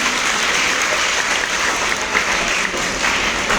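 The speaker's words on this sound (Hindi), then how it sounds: "एक बार और जोरदार तालियां हो जाए सर के लिए।" Seminar audience gives the speaker a loud, sustained round of applause, a continuous dense clatter of many hands with no pauses and no talking.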